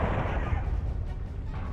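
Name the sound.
incoming missiles exploding in MechWarrior Online video game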